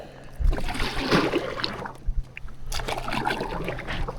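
A heavy Bonafide XTR130 fishing kayak is paddled from a seated position, with soft repeated paddle strokes and water swishes close by, mixed with light wind rumble on the microphone.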